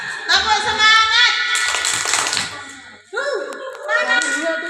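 Young children at a morning school gathering chant together and clap along in a rhythmic spirit cheer, bright voices loud and close with quick clustered hand claps.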